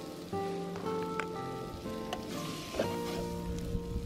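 Fried squid bits and prawn bodies sizzling steadily in a paella pan over a decent flame, with a few scraping stirs, close and continuous, no talking.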